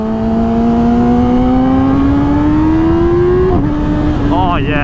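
A 2019 Yamaha R6 sport bike with upgraded cams revs steadily, its engine pitch climbing smoothly over about three seconds before dropping and wavering, loud and close, with wind rush throughout.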